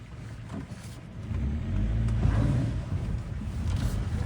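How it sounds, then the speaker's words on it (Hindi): A car drives along a narrow, single-lane snowy mountain road in Munsiyari. Its engine rumbles low and steady up close, rising and swelling after the first second, with no talk. "वो निकल गई गाड़ी आराम से, उसके बाद हम निकलते हैं।"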